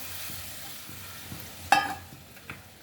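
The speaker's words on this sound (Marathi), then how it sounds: "तर आता आपण हे चणे टाकून देऊया." Chickpeas tipped into a boiling, gravy-rich curry with a brief splash and sizzle near the end, over a soft background of simmering and stirring; no voices.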